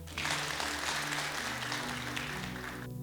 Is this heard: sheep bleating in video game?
no